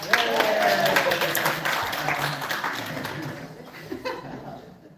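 Mourners at a memorial clap together, a moderate burst of applause mixed with light laughter and voices that tapers off and fades near the end.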